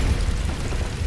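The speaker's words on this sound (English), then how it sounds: "And explosion." A dense, rumbling explosion blast from the 2013 Tomb Raider video game, loud and sustained with heavy low-end roar throughout the short burst.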